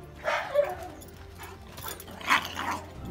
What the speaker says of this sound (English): Next, we have Dogo Argentino.